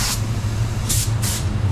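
Paint spray gun with a 1.2 tip laying down activated face coat on an automotive panel, three short hissing bursts of air over a constant low compressor drone, close and loud.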